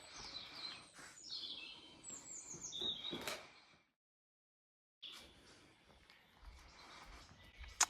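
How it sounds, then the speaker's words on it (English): Birds singing on a chateau terrace, with bright chirps and warbling calls from several birds, moderately near and soft, broken by a short gap of silence before the chirping resumes. "it always seems to have the beautiful singing birds"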